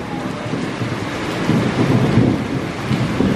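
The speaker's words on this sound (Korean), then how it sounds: "와 천둥 장난 아니야." Heavy tropical rain in Bali pours in a loud, steady hiss, with deep thunder rumbling and swelling underneath partway through.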